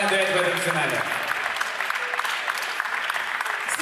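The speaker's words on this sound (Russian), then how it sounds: "Встречаем аплодисментами." Audience applause for a dance couple in a professional ballroom final at the Russian Open Dance Festival, steady hall-filling clapping following an announcer's voice in the opening second.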